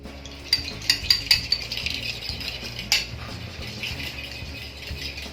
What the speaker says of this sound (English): The trick is to mix it until the concoction becomes thick and creamy.